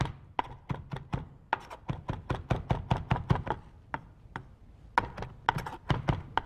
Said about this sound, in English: I happen to love cilantro, so I'm going to really give it a nice rough chop.